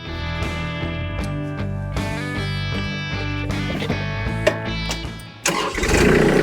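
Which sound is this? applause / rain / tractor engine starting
tractor engine starting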